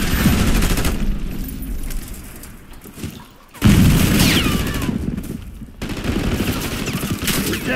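Bursts of automatic gunfire from a Call of Duty: Black Ops 6 multiplayer match, loud and dense, broken by a brief lull before the shooting resumes, with scattered distant shots behind it.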